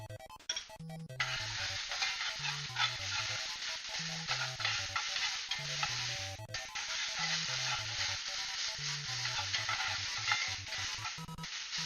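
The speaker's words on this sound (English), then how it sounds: "Oh, could you hear the sizzle?" Rice and mixed vegetables frying in a pan with garlic powder and ground ginger, a loud steady sizzle running nearly throughout with stirring clatter and background music, a brief dip near the middle.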